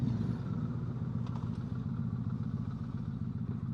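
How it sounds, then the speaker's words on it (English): A Yamaha MT-01 V-twin motorcycle engine runs with a steady, heavy low rumble and a few clattery mechanical knocks, close by and fairly loud, with no voices. "Just a quick blip on the throttle when everybody looks at you"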